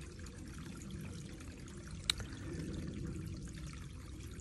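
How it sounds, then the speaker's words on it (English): Spring water flows from an unplugged well, pouring and trickling as a steady low rush, with one brief sharp tap partway through. "unplugging the aquifer and allowing the sacred water to flow"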